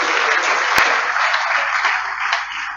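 Audience applause fills a hall during an Accra Academy 90th anniversary inaugural service: dense, steady clapping that carries on for the whole stretch at an even, fairly loud level.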